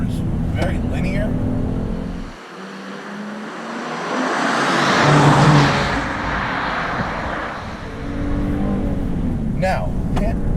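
A Genesis G70 3.3T with a twin-turbo V6 drives under steady engine drone and road noise that swells and fades with throttle, with a voice talking over it.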